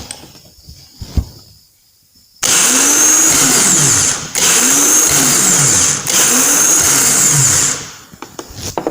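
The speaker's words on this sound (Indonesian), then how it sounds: "Jika saya hubungkan, maka starter akan maju, pinion akan maju, dan starter akan berputar." A car starter motor spins on a bench test, wired to the battery so the pinion pushes forward as it turns: three loud, close whirring runs, each winding up and down, separated by brief breaks, with no talk.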